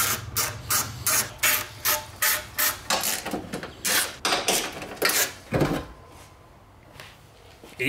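A hand ratchet works loose the bolts of an intercooler on a Honda K24 swap into a Nissan Cefiro, giving loud, close, steady ratcheting clicks in quick regular strokes that slow and fade into quiet near the end.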